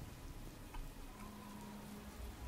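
Steady rain falls in a jungle-like swamp basin in the game Oblivion, a soft, even hiss of drops with no voices, constant and fairly faint throughout.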